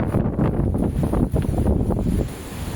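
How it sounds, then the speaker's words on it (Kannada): Strong wind on Jambunatha Hill near Hosapet buffets the microphone in loud, continuous gusts, roaring and rumbling without a break. "ಗಾಳಿ ಅಂತೂ ತುಂಬಾ ಗಾಳಿ ಇದೆ"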